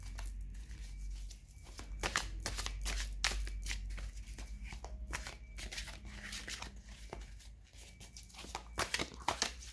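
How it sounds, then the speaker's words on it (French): Large, thick oracle cards being shuffled by hand, giving repeated papery riffling and flapping bursts in an irregular rhythm, close and fairly quiet, with no talking. "on va le brasser. On a des cartes assez grandes et assez épaisses."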